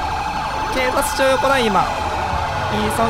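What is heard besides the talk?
police car sirens in GTA 5 video game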